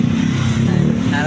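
A motorcycle engine running loud and close on a road ride, a steady low droning growl with slight revving that holds throughout.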